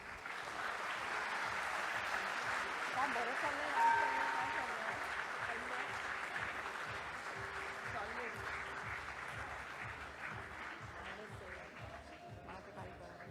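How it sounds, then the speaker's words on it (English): Audience applause at a BSE ceremony marking the listing of LIC of India, sustained moderate clapping from a crowd with voices and background chatter mixed in, fading slightly toward the end. "Can we hear a resounding of claps, please?"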